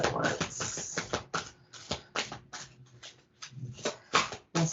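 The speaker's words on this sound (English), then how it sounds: "I'm going to go ahead and shuffle these." Tarot cards being shuffled by hand, a series of quick papery riffles and flicks in irregular bursts, fairly close and quiet, with no talking.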